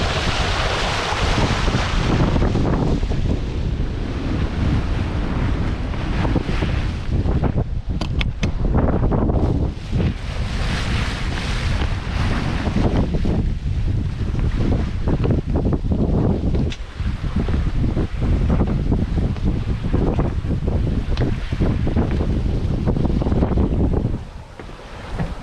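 Strong wind roars and buffets the microphone alongside rushing waves and water on a sailboat at sea in the Mediterranean near Elba, loud and continuous with no voices.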